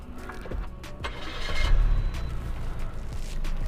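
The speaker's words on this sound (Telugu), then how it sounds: "And let me turn on the car." A Maruti Baleno 2021 with a VVT petrol engine and automatic transmission starts up, a brief starter crank giving way to a steady low idle close by, with no one talking.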